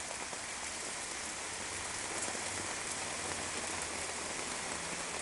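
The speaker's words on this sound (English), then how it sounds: "That's all hail. And it's still coming down." Hail pelting down during a storm, a dense steady patter of hard pellets striking surfaces and piling up in a chair, continuous and fairly loud with no voices.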